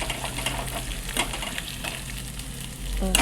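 Garlic sautéing and being stirred in a pan while making chole, a steady close sizzle and crackle of frying oil with soft scraping stirs, and a louder bump near the end, with no talking.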